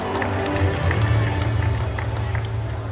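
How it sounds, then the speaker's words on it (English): An outdoor crowd at a safari park bird show applauds great white pelicans, giving a steady, dense clapping that holds for a few seconds. "let's give them a big round of applause"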